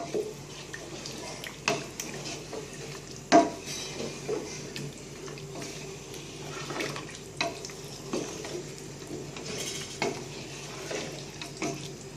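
Biryani gets stirred in a cooking pot, with a spoon scraping and clinking against the metal in an irregular rhythm over a soft sizzling background, close up.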